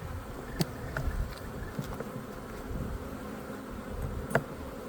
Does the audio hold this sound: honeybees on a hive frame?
yes